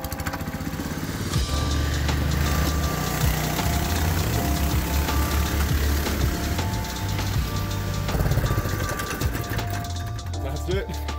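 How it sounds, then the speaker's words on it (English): A homemade snow dog built from an old snowmobile track and a 7.5 hp four-stroke motor runs steadily nearby, a loud, continuous chugging engine drone with slight rises in revs, and someone talks over it. "it's an old snowmobile track with a four-stroke motor bolted to it"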